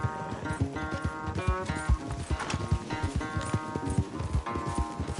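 Horse hooves clip-clopping at a gallop during a race in the video game Red Dead Redemption 2, a fast, loud, rhythmic pounding over a musical score with scattered game sounds.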